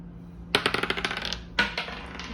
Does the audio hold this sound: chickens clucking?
no